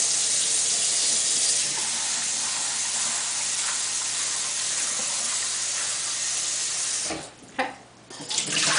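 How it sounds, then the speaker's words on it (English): Irish moss seaweed is rinsed under a running kitchen tap, a steady loud hiss of splashing water that cuts off near the end, followed by a few short wet sloshes. "Keep rinsing this out."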